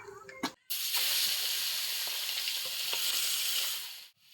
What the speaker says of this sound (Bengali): এবার কড়াইতে দিয়ে দিলাম সর্ষের তেল, ভাজা করে নেব।